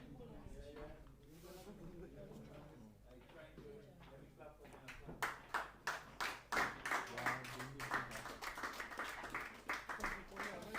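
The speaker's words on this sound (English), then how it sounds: "Getting a round of applause there." A commentator at an under-19 cricket match talks steadily, then a burst of crowd applause breaks out midway as a 50-run partnership is broken, rhythmic clapping rising over the voice.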